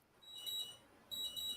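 A smoke alarm or alarm clock chirping faintly at a distance, two bursts of thin, high beeps in a quiet room.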